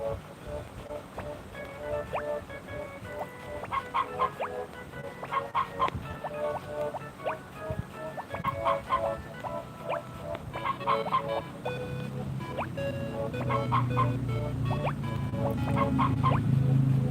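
A chicken in the Harvest Moon: Friends of Mineral Town game clucks in repeated short squawking bursts, with a low rumbling background that builds louder toward the end.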